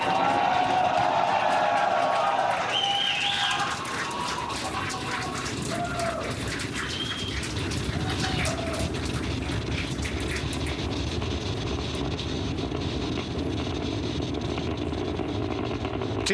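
A SpaceX Falcon 9 rocket lifting the Dragon capsule on the Polaris Dawn mission roars with a steady, dense, broadband rumble that stays loud and unbroken, heard from a distance with faint voices underneath.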